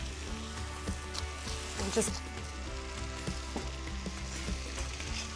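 Fennel frying in olive oil in a pan gives a steady low sizzle with occasional clicks and a light clatter, close and continuous under a brief spoken word.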